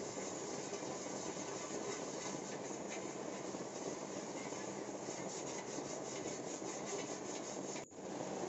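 A brick scrubs the metal plate of a rocket stove, making a continuous, close, harsh rasping scrape at an even pace that stops briefly with a thump near the end.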